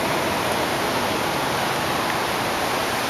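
The Urubamba River rushes beside a riverside restaurant in Peru, a steady, even roar of flowing water filling the whole stretch with no voices.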